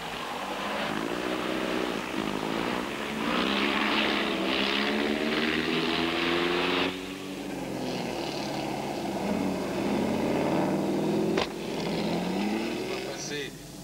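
A vintage Napier racing car roars past the pits at a historic Grand Prix event, its loud engine note surging and shifting through several pitch changes as it goes by, with a commentator talking over it.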